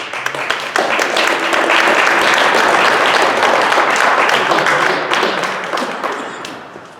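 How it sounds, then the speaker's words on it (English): Transit workers at a training session applaud together, a dense burst of clapping that swells quickly, holds steady for several seconds, then tapers off. "So give yourselves a big round of applause, please."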